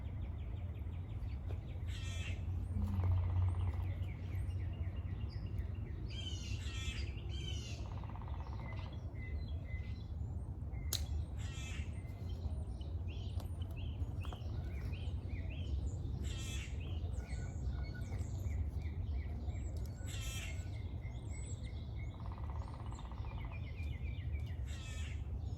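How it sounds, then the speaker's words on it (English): Outdoors by a garden, a woodpecker and other birds call repeatedly from a distance over a steady low rumble of wind or background noise. "Can y'all hear that woodpecker?"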